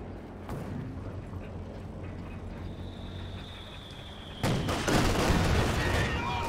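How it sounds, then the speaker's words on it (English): Heavy mortar fire in a World War II real-time strategy match, distant thumps and crumps under battle noise, ending in a louder burst of impacts. "Oh, big connection there from the heavy mortar."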